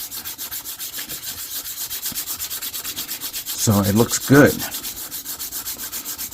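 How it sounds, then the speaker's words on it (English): Steady rhythmic scraping of sandpaper rubbing back and forth on a plastic model kit part, close up, with a brief spoken remark over it. "I'm going to try to still sand it down"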